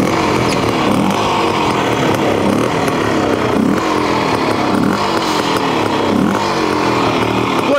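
Bultaco or Fantic twin shock trials motorcycle engine running after a kick start, a loud, close two-stroke buzz with rhythmic blipped revs rising and falling every second or so.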